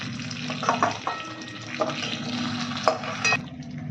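Potato and eggplant frying in a pan with turmeric and tempering spices, a steady close sizzle broken by a few brief stirring clatters, no voices.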